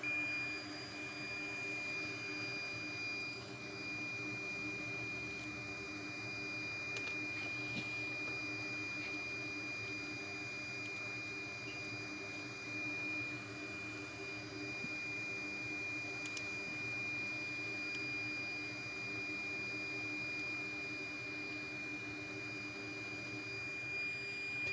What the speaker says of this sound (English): my hot tweezers sound like this